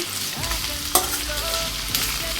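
Ivy gourd curry is stirred in a pan, a close steady sizzle broken by scraping spoon strokes and a couple of sharp knocks against the pan, with no voices.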